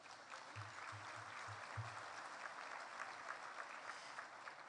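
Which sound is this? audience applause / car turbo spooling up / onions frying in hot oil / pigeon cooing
audience applause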